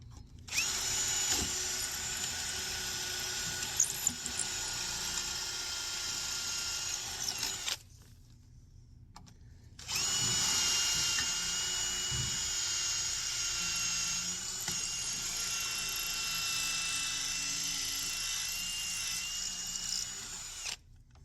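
A power drill runs steadily with a bit while mounting a dryer vent guard, high and whining at close range. It stops for about two seconds, then starts again and holds a long continuous run.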